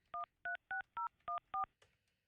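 A telephone being dialed by touch-tone keypad: six crisp, evenly spaced DTMF beeps in quick succession, close and clear in a quiet room, then a faint click.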